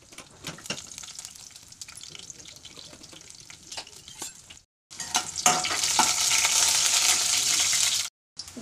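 Cumin, chopped garlic and dried chillies sizzle in hot oil in a kadai, a close, steady frying hiss that grows louder and denser after a brief pause, with stirring clatter.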